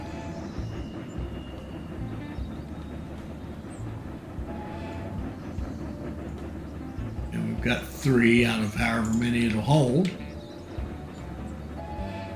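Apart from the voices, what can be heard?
train in the video game Railroad Corporation 2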